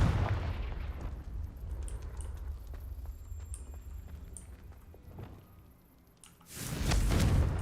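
Confringo fire-blast spell explosions in Hogwarts Legacy, a bursting blast at the start, scattered small pops and crackles through a quieter stretch, then another loud explosive burst near the end.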